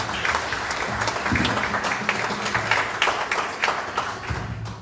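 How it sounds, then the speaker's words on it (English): An audience applauding after a bhajan performance, with dense sustained clapping from a crowd at steady loudness, lasting the full few seconds before thinning slightly at the end. "Let's give them another hand of applause."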